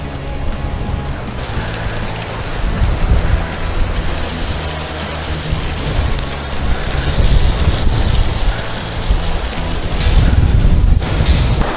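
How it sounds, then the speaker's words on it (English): Strong wind gusting across Keeler Reservoir near a dam overflow in Northumberland, a loud continuous roar buffeting the microphone, rising and falling through the whole stretch with no speech. "it's very, very windy"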